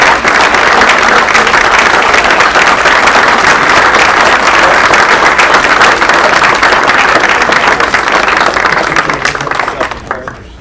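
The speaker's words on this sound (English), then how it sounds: "Class agents, please stand at this time for a round of applause." A large banquet audience at the 2025 Moroney Award Dinner gives class agents a long, loud, dense round of applause that holds steady for about nine seconds before tapering off.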